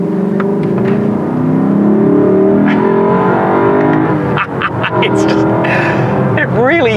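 Lexus LC 500 with its V8 engine, a loud sustained engine drone under continuous talk inside the car, rising toward the end with a brief rev.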